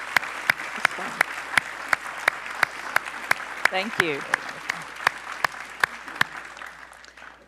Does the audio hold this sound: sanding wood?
no